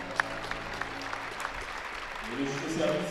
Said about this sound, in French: Nous applaudissons.